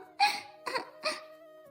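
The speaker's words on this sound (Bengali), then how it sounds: "এখনো কাঁদছো কেন?" A woman sobs softly in three short, breathy catches of crying, close and faint with quiet pauses between them.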